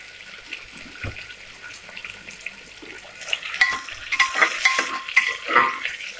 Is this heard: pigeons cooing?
no